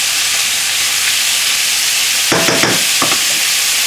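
Vegetables frying in a hot pan for glass noodle salad, a loud continuous close sizzle with a short burst of stirring and tossing partway through.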